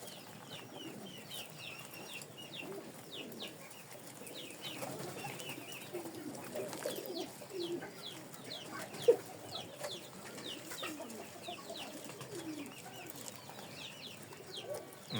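Pigeons cooing softly in a coop where they feed their young, low murmuring coos repeating throughout at moderate distance, with sharper faint chirps and a single brief knock mid-way, no talking.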